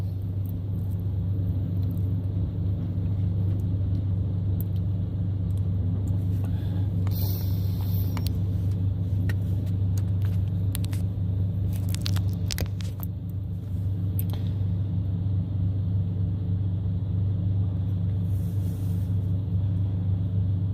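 A car travelling in a convoy leaving Banning, California, rolls along with a steady low engine and road rumble throughout, loud and continuous, with a few faint clinks and rattles over the drone.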